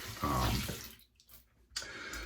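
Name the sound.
warm water splashing from sink while shaving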